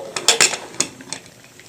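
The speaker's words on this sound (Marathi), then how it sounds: "तर आपण याचं झाकण लावून घेऊया" A pressure cooker lid being fitted over boiling pav bhaji vegetables, a few close metallic clanks and scrapes in quick succession, then fading to quiet.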